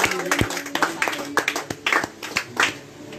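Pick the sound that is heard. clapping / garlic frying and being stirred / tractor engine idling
clapping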